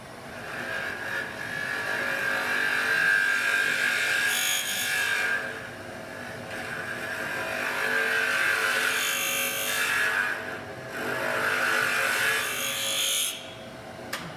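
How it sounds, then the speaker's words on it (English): A round nose scraper works inside a wooden box lid spinning on a lathe. A steady, loud machine whine runs throughout, swelling with several scraping passes, and no one speaks. "So I'm going to go in with the round nose scraper and just clean up the bottom of that just a little bit"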